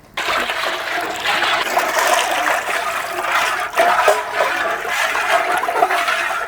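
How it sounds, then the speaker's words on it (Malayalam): Water poured into a pan of koova (arrowroot) paste stuck to the bottom and stirred in, a steady loud rushing splash lasting several seconds with brief surges, no talk. "വെള്ളം ഒഴിച്ച് മിക്സ് ആക്കട്ടോ"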